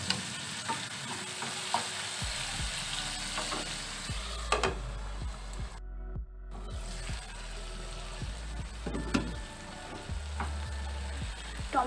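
Chopped tomato frying with ginger, garlic and salt in a pan gives a steady close sizzle, with a spoon stirring and scraping in repeated strokes and one short pause.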